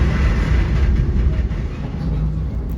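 A Metra commuter train leaving Chicago heard from on board, a steady low rumble of the railcar with faint rail noise, moving slowly and evenly.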